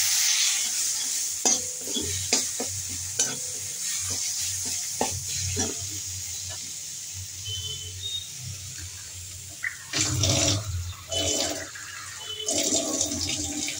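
Whole and ground cumin sizzle in a pan, with repeated spoon stirring and scraping strokes over a steady frying hiss, close and alone without talk.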